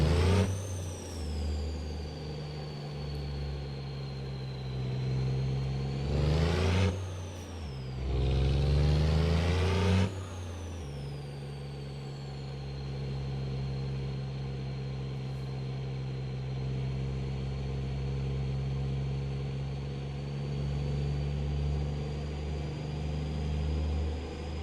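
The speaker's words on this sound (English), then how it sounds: "There's a lot of turbo noise with this engine." A turbocharged car engine in a sci-fi game, revving hard with a high whistling turbo whine over a deep drone, dipping and surging twice, then holding at a steady cruising roar.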